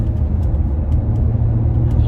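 An Acura CL Type S with a six-speed manual runs demo laps on a race track, its engine a steady low rumble heard from inside the car with faint ticks and road noise over it.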